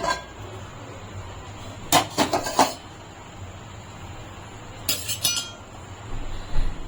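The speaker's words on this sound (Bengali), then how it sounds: "আমি এখন ঢাকনা খুলে নিচ্ছি" A metal lid lifted off a pan of bread baking on a gas stove, heard as a clear clinking rattle at around two seconds and a shorter clatter near five seconds over quiet kitchen background.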